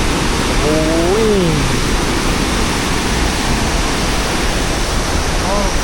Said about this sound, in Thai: อันนี้คือน้ำตกตาดขนาดใหญ่นะตาดเลาะ